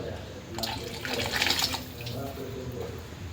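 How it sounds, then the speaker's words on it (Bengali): Water pours into a cooking pot of khichuri, a steady running splash swelling briefly in the middle before easing off, close and moderately loud with no talk. "আমি একটু পানি দিয়ে রাখছি"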